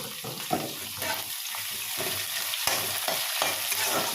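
Onions and curry leaves fry in a pan with garlic and dried chillies, a continuous sizzle broken by repeated stirring scrapes and spoon clicks, close and moderately loud.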